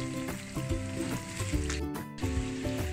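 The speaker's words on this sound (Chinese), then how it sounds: "炸豆干的时候不可以用小火，要用中火，豆干才炸得漂亮" Dried tofu frying in oil over medium heat, a steady loud sizzle and crackle throughout, with a few clinks of a utensil stirring in the pan.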